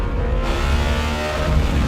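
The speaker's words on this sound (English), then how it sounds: "the emotion and power delivery and sound of a naturally aspirated 16-cylinder engine" A Bugatti Tourbillon's naturally aspirated 16-cylinder engine revs loud and close, a dense sustained roar with a rising pitch and no talking.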